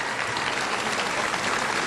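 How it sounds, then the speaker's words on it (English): Dense, steady applause from a large audience at a university event honouring a member of the Board of Curators, a continuous crowd clapping with no voices on top. "Don, please stand and let us give you applause."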